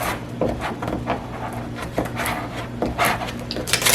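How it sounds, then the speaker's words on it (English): A scraper is pressed and rubbed over transfer tape laid on a box, making close, repeated scraping strokes and soft rubbing over a steady low background hum. "putting this transfer tape down on top of the word dad, using my scraper to press down on it."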